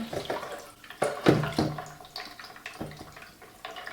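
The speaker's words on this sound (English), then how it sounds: "I'm gonna put some water" Brita filtered water pours from a jug into a cup of sweetened protein coffee in a home kitchen, a close, soft splash and trickle that comes in short spurts with small drips between.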